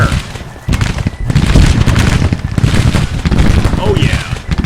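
Musket volley fire in the Civil War strategy game Grand Tactician, a rolling crackle of many shots with booming bursts repeating for several seconds, loud and dense, mixed with battlefield clatter.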